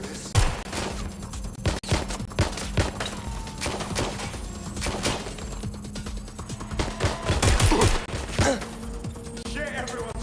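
Gunfire in the video game Watch Dogs Legion: repeated bursts and rapid shots, close and loud, with sharp cracks scattered through a busy combat soundscape and brief voices between.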